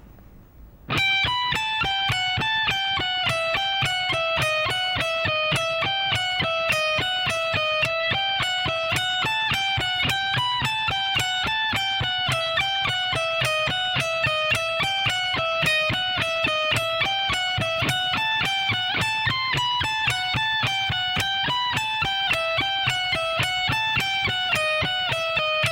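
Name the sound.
guitar speed soloing lick at slow tempo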